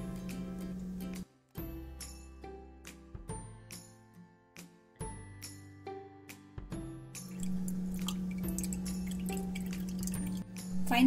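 Thandai milk mixture is stirred and poured through a sieve, giving light clinks, tinkles and wet drips against a bowl, close and intermittent over a low steady hum.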